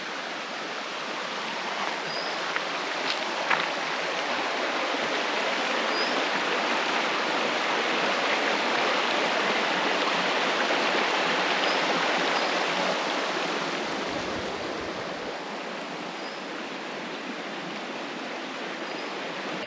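The Groom River in Tasmania flows as a steady, loud rushing stream, a broad continuous wash of water close by with no voices.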